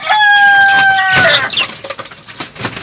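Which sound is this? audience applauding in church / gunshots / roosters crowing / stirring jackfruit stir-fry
roosters crowing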